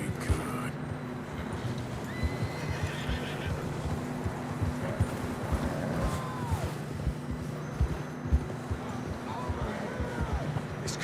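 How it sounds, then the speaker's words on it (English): Horses gallop in Red Dead Redemption 2, a rhythmic thudding of hooves with whinnies and neighs over a rumbling outdoor backdrop, while voices call out between them. "I don't think we can go much further on the horses."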